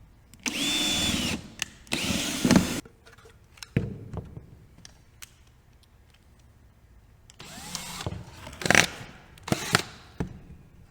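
A power drill pre-drills holes in pallet wood blocks for a plant stand's feet, with several short, loud whirring bursts separated by quieter gaps and light clicks.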